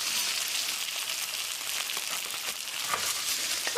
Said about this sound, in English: while the chicken is searing